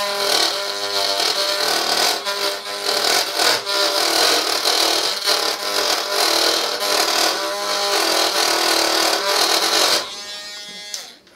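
A power drill whirs steadily while cleaning around a screw hole for about ten seconds, its high grinding buzz fluctuating slightly as it works, then winds down near the end.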